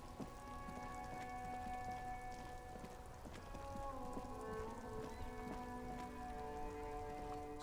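Steady rain falls in the Disco Elysium video game, with a soft continuous patter under sustained tonal background music and no speech.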